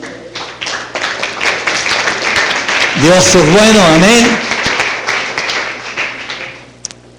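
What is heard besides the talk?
congregation clapping in church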